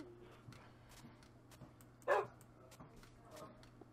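A single short dog bark in the Minecraft Pixelmon mod, rising briefly above a steady low hum of game sound, with soft scattered clicks around it.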